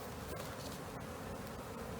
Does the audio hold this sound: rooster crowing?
no